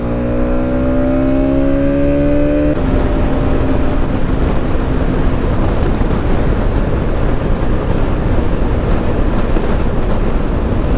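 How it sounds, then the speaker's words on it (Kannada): Heavy wind roars steadily across a microphone during a motorcycle ride on an NS 200, loud and continuous throughout, with an engine's harmonic whine audible only in the first few seconds. "ಹೆವಿ ವಿಂಡ್ ಬ್ಲಾಸ್ಟ್ ಇದೆ ಗುರು."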